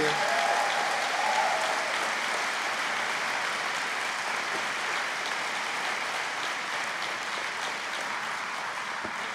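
Sustained applause from a church congregation, a dense steady wash of many hands clapping for the full length, loud and close, with a brief whistle or cheer near the start.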